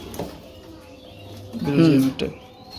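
A foreign-breed pigeon at a pigeon farm gives a short, low cooing call near the middle, close by, with a voice talking faintly around it.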